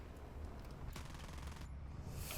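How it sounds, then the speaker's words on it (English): Aircraft cannons on the P-16 jet in War Thunder fire a rapid burst of shots, a dense rattling volley in the middle of the stretch over steady engine roar. "The cannons are really good."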